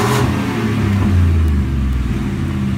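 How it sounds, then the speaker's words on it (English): A custom 2017 Ford F-150 XR6 pickup truck engine revving up with a deep, throaty exhaust rumble, the pitch climbing and falling back, loud and close. "start it up here real quick so you can have a listen to that exhaust"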